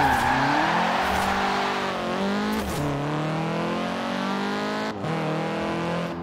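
A race car engine in the Forza racing video game revs loud and steady, its pitch sweeping up and dropping back through several gear changes with brief breaks, with no talk over it.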